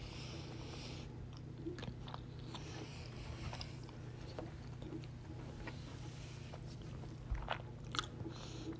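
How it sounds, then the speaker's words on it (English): Soft, quiet chewing of puto, Filipino steamed rice cakes, heard close as faint moist bites and mastication over a low background hum, with no talk. "I'm trying to quietly chew,"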